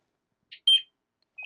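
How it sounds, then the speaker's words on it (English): An Interlogix Simon XT alarm panel gives a few short, high electronic beeps as it powers up, sounding clear and isolated in a quiet room. "The panel beeped. It is fully powered on now."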